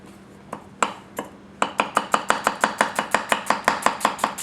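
A Goko White #1 240 mm gyuto knife chops food on a cutting board with its heel: a few spaced sharp knocks, then a quick, even run of crisp, close chops.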